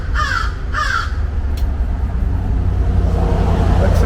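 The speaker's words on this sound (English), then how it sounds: "What's the matter with you crows, huh?" Two harsh crow caws sound close together near the start, clear over a steady low rumble of nearby road traffic, with no voices.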